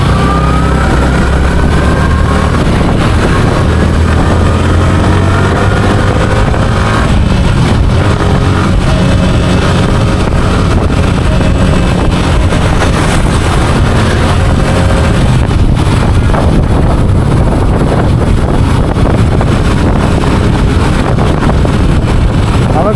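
Motorbike riding along a busy road on Chittagong Road on Eid eve, with steady engine drone and heavy wind rush throughout, traffic noise around and voices talking over it.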